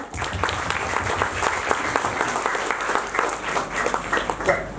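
Audience applause at an Onam cultural programme, a sustained burst of many hands clapping together for several seconds in a hall, dense and even, with a little background murmur.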